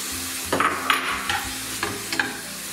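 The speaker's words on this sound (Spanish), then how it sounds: "Y vamos a ir rehogando a un fuego más bien bajo." Onion and peppers sautéing in a pan over low heat, with a soft steady sizzle and a few brief scrapes of a spoon stirring, close and short.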